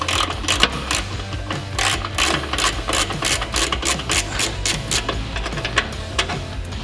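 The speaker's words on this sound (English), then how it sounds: "take a 12mm socket or end wrench and pull this one bolt right here." A 12mm socket wrench ratchets as it loosens a brake line bracket bolt on a Toyota Tacoma during slider installation, giving rapid, close clicking in quick bursts with no talk.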